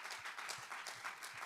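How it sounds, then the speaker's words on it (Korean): Congregation applauding during a Sunday worship service in a church, a steady wash of clapping from many hands filling the room, fairly quiet and continuous with no talk over it. "우리 하나님께 감사와 영광의 박수를 올려드리겠습니다"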